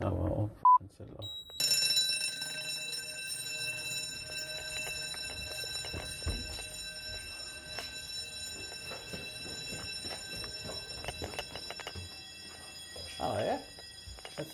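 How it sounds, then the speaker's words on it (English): Fire alarm bell ringing continuously through a system test, a steady sustained electric ring with voices talking briefly over it and some knocks and handling noise. "That's an alarm bell."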